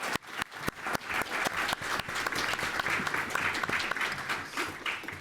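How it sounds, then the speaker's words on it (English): An audience applauds to welcome a panel at a business talk, a steady patter of many hands with sharp individual claps standing out, heard from within the room at moderate volume for about five seconds. "please join me in welcoming them by giving them a round of applause"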